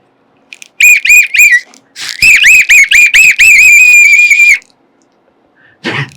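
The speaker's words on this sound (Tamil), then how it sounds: "விசிலு" Loud, shrill whistling nearby comes in a quick run of short rising blasts and then a longer string of sharp trills, with a short break and a brief noise at the end.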